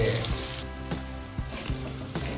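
Lentils sizzle and crackle as they fry in hot mustard oil for khichuri, a dense, close hiss with scattered sharp pops and stirring scrapes, with no talk over it.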